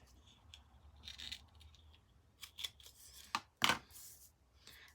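Scissors snipping decorative border tape for a paper craft project: a few quick, close cuts, with a sharp double snip near the end, over a quiet background without speech.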